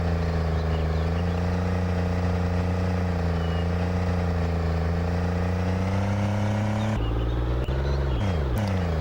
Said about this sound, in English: You can also drive vehicles in the game as well, like you can see now